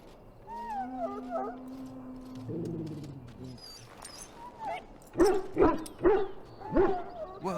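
A dog in the Dragon Age: Origins video game whimpers with rising whines, then lets out a run of loud, close barks, four or five sharp yelps in quick succession near the end.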